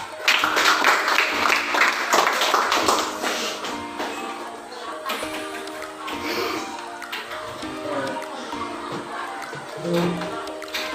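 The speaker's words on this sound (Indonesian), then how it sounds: "Kita semua tepuk tangan dulu." A classroom of students applauds together, a dense burst of clapping that is loudest at first and then thins into scattered claps and shuffling under faint voices.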